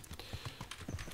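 Horse hooves clip-clopping at a steady riding gait in the medieval game Kingdom Come: Deliverance, a run of close, evenly spaced thuds over a faint background.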